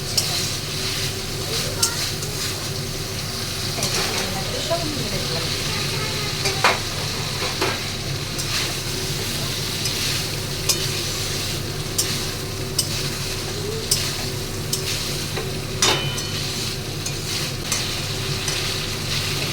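Prawns fry and get stirred in a pan for a Bengali prawn curry, with a steady sizzle and scraping stir strokes that run through the whole stretch, with no speech over them.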